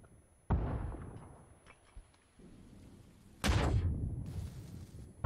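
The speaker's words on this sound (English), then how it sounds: "Throws a grenade." In the game PUBG a thrown grenade goes off with two sharp, booming blasts a few seconds apart. Each blast leaves a rumbling tail over a fairly quiet, low background.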